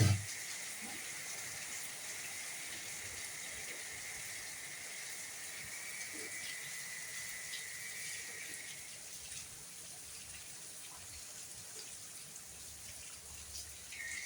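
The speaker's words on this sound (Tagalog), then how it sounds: "ang ulan kasi once a year lang magulan dito sa UAE" Light rain falls steadily in the UAE with a soft even hiss and faint patter, distant and quiet, with no talking.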